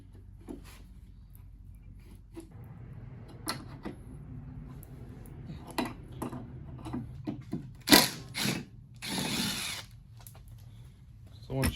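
Ratchet and power tool work removing bolts from a Jeep after a trail rollover, with repeated sharp clicks and bursts of loud whirring and scraping close by, building toward a louder stretch near the end.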